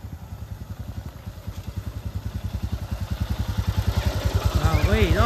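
A motorcycle engine runs nearby with a steady, regular pulsing beat that builds gradually in loudness as the bike is turned around, with a high whistling or calling voice rising near the end.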